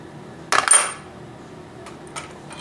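Loosened cylinder head bolts on a Toyota Camry 5S-FE 2.2 engine lifted out with tongs, one sharp metallic clatter followed by a faint light clink, close and otherwise quiet, no voices.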